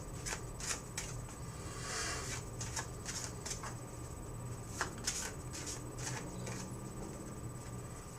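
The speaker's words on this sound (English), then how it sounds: "you do your shuffle again" Riffled playing cards being shuffled close by, a few quick bursts of crisp flapping over a low room hum, with no talking.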